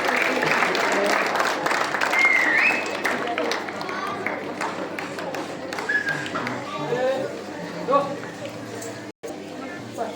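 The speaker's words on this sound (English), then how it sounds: "Give a big round of applause." A school morning-assembly audience applauds, a dense, steady patter of many hands close by that keeps going for about ten seconds, with voices mixed underneath and a brief dropout near the end.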